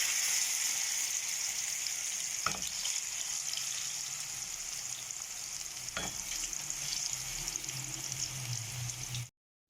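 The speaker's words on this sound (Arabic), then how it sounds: "هنا حبايبي قليت البوتيتة" Lightly parboiled potatoes fry in hot oil in a pan with a loud, steady sizzle. Two brief clanks of stirring break it, and it cuts off abruptly at the end.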